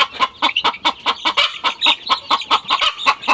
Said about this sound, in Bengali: এখানে যে মুরগিগুলো আপনারা দেখতে পাচ্ছেন এই মুরগিগুলোর বয়স পঁচিশ দিন